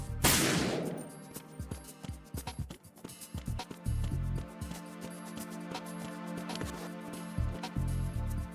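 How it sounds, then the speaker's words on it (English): Gunfire in Metal Gear Solid 2 VR cracks out in a rapid string of sharp shots, fairly faint and steady over a busy background of game sound. "Maybe they won't hear the gunshots actually from here."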